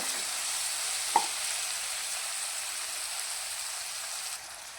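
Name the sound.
stirring onions frying in a pan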